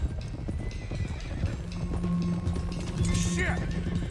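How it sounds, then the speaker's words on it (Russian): Horses in the Red Dead Redemption 2 video game clip-clop in a steady, busy hoof rhythm with a neigh rising near the end, under game ambience as someone talks. "Надо как можно быстрее отогнать лошадей."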